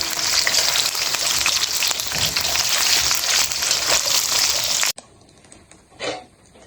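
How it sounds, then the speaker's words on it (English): Pork pieces shallow frying in a pan for an African traditional dish, a loud steady crackling sizzle for about five seconds, then cutting out to near quiet with a brief soft clatter. "Let it shallow fry a little golden brown."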